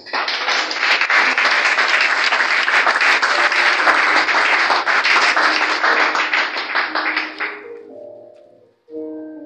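A church congregation bursts into loud, dense applause for about seven seconds during a morning worship service, then fades out into sustained organ or keyboard tones.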